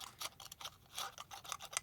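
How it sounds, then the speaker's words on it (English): Quick metallic snipping and scraping clicks, several in a row, close and fairly quiet. "I'm cleaning my scissors off if you don't realize that's what I'm doing."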